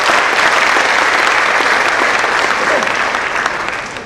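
A crowd at a spiritual discourse gathering breaks into loud, dense, sustained applause that washes evenly across the moment and eases slightly at the end.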